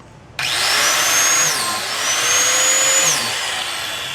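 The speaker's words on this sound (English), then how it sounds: "when we're drilling these logs out" A power drill bores into a log for shiitake mushroom spawn, a loud close whine starting abruptly, dipping and rising in pitch as the bit bites into the wood, then easing at the end.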